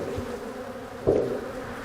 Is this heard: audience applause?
no